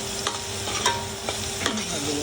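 Onion sautés with browned garlic in a pan for Kapampangan kare kare, with a steady close sizzle and a few distinct scraping stirs of a spatula.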